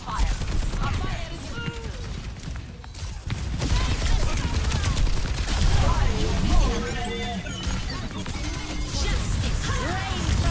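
Gunfire and impacts in an Overwatch 2 match, repeated shots and crashes layered in a busy, noisy mix of game effects and voices lasting throughout.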